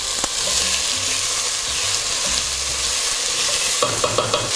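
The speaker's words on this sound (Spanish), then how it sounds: "Y vamos a freír cebolla finamente picada." Finely chopped onion fries in oil in a small saucepan, a steady loud sizzle running throughout, with a few clinks of a spoon stirring near the end.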